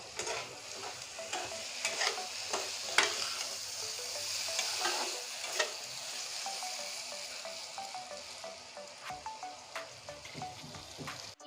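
Spice masala sautéed in a pan for a Lakshmi Puja bhog: repeated spatula scrapes and taps keep a brisk stirring rhythm over a soft, continuous sizzle, close and fairly quiet.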